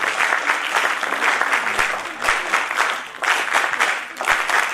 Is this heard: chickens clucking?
no